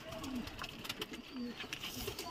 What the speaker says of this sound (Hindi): ये सब उड़ाऊ कबूतर हैं हमारे